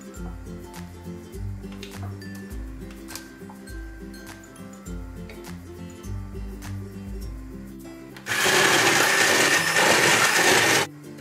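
An immersion blender whirs into a thick béchamel sauce for a vegetarian seitan lasagna, loud and steady for about three seconds after a run of rhythmic kitchen clinks and low thuds.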